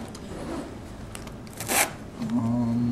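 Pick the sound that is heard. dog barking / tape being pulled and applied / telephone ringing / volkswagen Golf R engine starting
tape being pulled and applied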